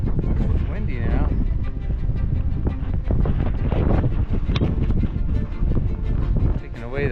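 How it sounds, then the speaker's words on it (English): Strong wind buffets the microphone in continuous gusts on a hot, sunny clifftop climb during an adventure race, roaring loudly with a voice partly buried underneath. "It's windy now."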